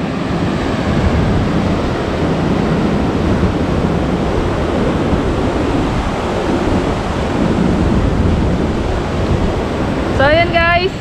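Ocean waves crash onto the shore at Balagbag Beach in Real, Quezon, under overcast, rainy skies, a continuous loud roar of surf with wind buffeting the microphone and a brief voice near the end.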